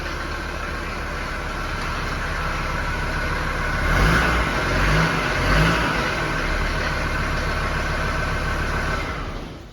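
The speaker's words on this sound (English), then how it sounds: "Just rev it a bit." A cold 1977 Mercedes-Benz W123 300D diesel with a manual gearbox idles with a clattering rumble, then is revved up briefly around the middle and settles back to a steady idle, loud and close.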